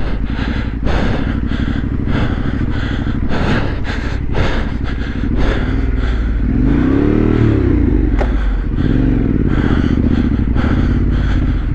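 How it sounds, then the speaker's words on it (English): A trail motorcycle on a winter green-lane ride slips into a false neutral, and its engine revs loudly in rising and falling bursts. The engine chugs unevenly in between, close to the microphone, with no talk. "So the bike just hit its false neutral there."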